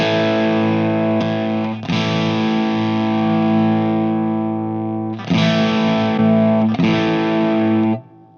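An electric guitar runs through a TwoNotes ReVolt British Crunch amp simulator, giving a gritty, overdriven tone. Sustained chords ring loudly and alone, with a few re-struck changes, before fading out at the end.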